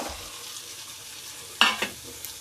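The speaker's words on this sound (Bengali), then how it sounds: "এবার এটাকে একটুখানি নেড়ে নেব" Fried potatoes stirred in hot oil in a pan for a prawn curry: a gentle steady sizzle, then two sharp scraping stirs in quick succession, close by.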